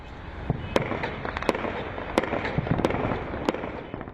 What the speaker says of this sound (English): People living in the Syrian capital Damascus woke up to the sound of celebratory gunfire.